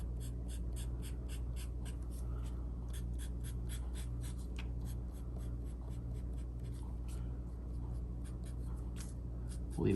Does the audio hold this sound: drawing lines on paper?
yes